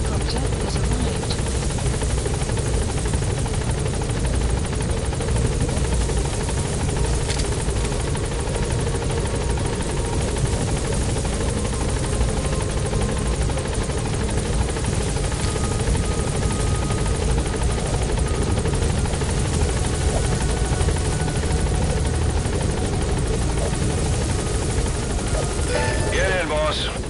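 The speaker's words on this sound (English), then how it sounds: "Support helicopter has arrived." Support helicopter in Metal Gear Solid V hovering over the landing zone, its steady rotor drone and engine buzz filling the whole stretch at close range, with game radio voices sounding over it.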